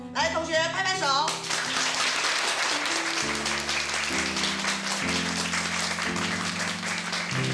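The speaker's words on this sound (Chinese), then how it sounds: "来，同学拍拍手。" Nursing students at a capping ceremony clap in a dense, sustained burst of applause, heard under loud music.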